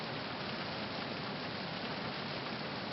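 Steady, even hiss of rain in a Metal Gear game parody, dense and constant with no pauses or voices.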